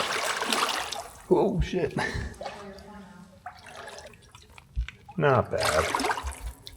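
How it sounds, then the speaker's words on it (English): Footsteps splash and slosh through muddy water on a canyon hike in Buckskin Gulch, with wet drips and squelches close by while someone talks and exclaims over them. "I'm not a fan of hiking through nasty fucking water"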